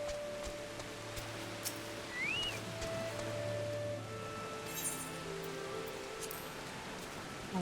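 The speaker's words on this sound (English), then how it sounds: "Rainy and cold and wet." Rain falling in Final Fantasy XIV, a gentle continuous wash of patter mixed with faint game chimes and tones, quiet and ambient throughout.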